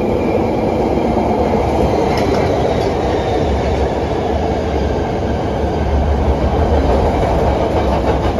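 A Chicago CTA train rumbles steadily past a station at close range without stopping, a loud continuous roar of rails and wheels with faint rhythmic clatter throughout.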